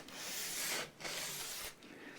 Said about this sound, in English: try and just do the sanding block routine